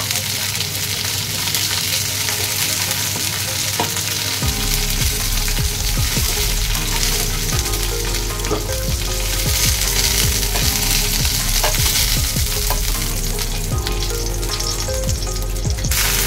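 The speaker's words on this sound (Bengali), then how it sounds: "মোটামুটি এরকম গোল্ডেন ব্রাউন করে কপিগুলোকে ভেজে নিচ্ছি" Cauliflower florets, soaked in vinegar beforehand, fry in hot oil until golden brown, giving a loud, continuous sizzle with repeated clicking and scraping from stirring throughout.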